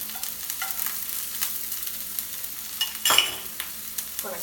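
Chopped organic onion frying in a pan, a soft continuous sizzle broken by scraping stirs of a utensil, with one louder clattering stir near the end.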